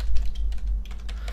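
Rapid clicking keystrokes on a computer keyboard, close and clear, in an irregular quick rhythm over a low steady hum, with no voices.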